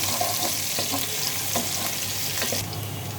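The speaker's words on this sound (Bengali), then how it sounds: "পেঁয়াজটা নাড়তে থাকবো বাদামি কালার করে ভেজে নেব" Onion frying in oil for plain pulao, a dense even sizzle with a light salt pinch added, punctuated by occasional stirring scrapes, close and continuous without speech.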